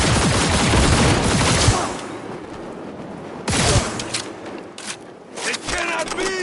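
Close-range gunfire in the video game Cyberpunk 2077, with a dense rapid burst at the start and further shot bursts later, mixed with game effects and voices.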